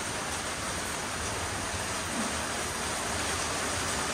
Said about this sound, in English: Oh, well, here comes more rain.